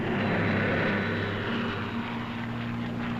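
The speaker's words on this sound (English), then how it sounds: "Here is the Lightning, the P-38, master of the air in many theaters of war." A World War II Lockheed P-38 Lightning fighter plane drones with a steady, close engine roar that stays loud and even throughout, with no pauses.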